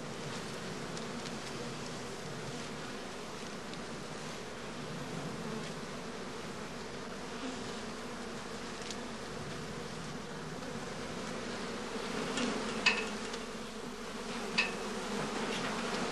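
Honey bees hum steadily around traditional straw skeps, a dense continuous buzz from many insects with a couple of brief louder close passes near the end.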